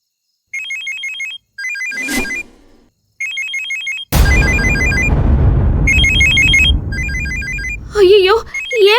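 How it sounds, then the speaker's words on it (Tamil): A telephone rings unanswered indoors in a TV drama scene, its trilling electronic ring repeating in short bursts, then continuing under a rush of background noise and people talking. "ஏன் போன் தான் கிடந்து அடிச்சுக்கிட்டு இருக்கு"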